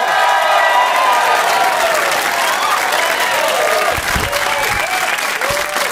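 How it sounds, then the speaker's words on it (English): Loud audience applause welcoming a comedian onstage at a live stand-up show, with scattered cheers and whoops rising over continuous clapping. "Ladies and gentlemen, start the clapping"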